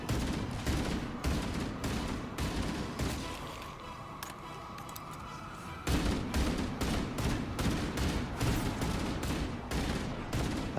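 Rapid gunfire in the Halo video game aimed at Banshee aircraft, with dense repeated bursts of shots and a brief lull before the firing resumes loudly.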